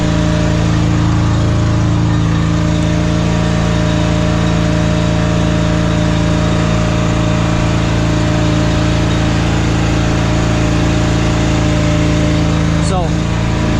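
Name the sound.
XL HDG 70 mini deck mower engine running at raised throttle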